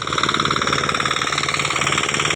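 A tractor engine chugs steadily at idle in a muddy Konkan rice paddy at planting time, a loud, close, rhythmic diesel rumble that continues unbroken before cutting off abruptly.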